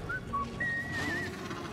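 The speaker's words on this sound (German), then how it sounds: "Ja, geil, wie er pfeift." BD droid from Star Wars Jedi Survivor gives a few short electronic whistles, a couple of quick chirps followed by a longer warbling whistle, heard over a steady low game background with no talking.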